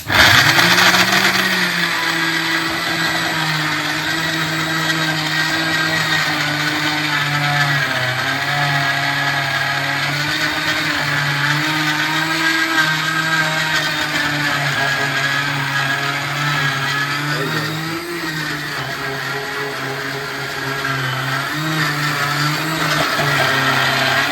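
A kitchen mixer grinder whirs steadily and loudly, grinding churma for gol churma ladoo in one continuous run with a slight dip in pitch partway through, and no voices over it.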